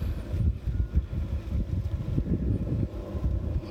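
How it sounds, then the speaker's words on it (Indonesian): Strong wind sweeps across open rice fields, buffeting the microphone with a gusty, low rumbling roar that pulses unevenly throughout and has no voices over it. "Ini anginnya kencang sekali di sini, di persawahan ini"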